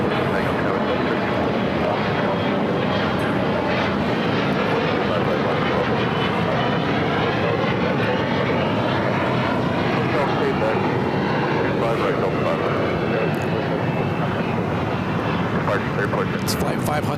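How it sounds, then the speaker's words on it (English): A Delta Boeing 757-200 touches down on the south side at LAX, a loud continuous jet engine roar with slow sweeping tones lasting throughout, with people talking over it. "Another Delta 757 touching down here on the south side."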